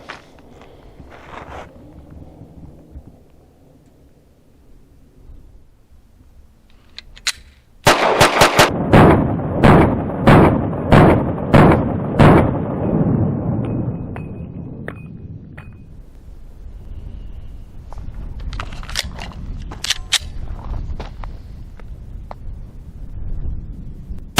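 A Ruger RXM 9mm pistol is fired one-handed at an outdoor range, giving a quick run of about eight sharp, loud shots close together, followed by quieter metallic clinks and shuffling.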